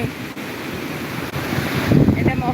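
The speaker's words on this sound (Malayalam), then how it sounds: "ഭയങ്കര തിരമാലയാണ്" Steady roar of surf at Vettukad beach with wind buffeting the microphone, swelling louder near the end as a wave breaks close by.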